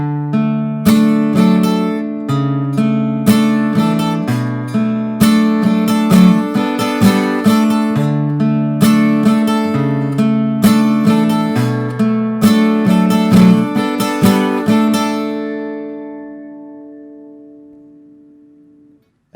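Acoustic guitar strums a repeating chord progression from a song, steady rhythmic strokes ringing close and clear, alone without voices, the last chord left to fade out.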